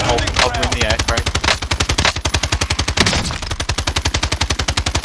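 Fast, loud automatic gunfire from the video game Call of Duty: Modern Warfare, with a close weapon firing long rhythmic bursts in quick succession and hardly a pause.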